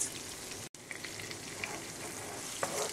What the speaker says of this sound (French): Je vais ajouter maintenant le coulis de tomate.